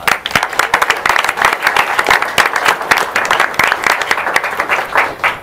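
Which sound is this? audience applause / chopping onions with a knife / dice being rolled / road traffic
audience applause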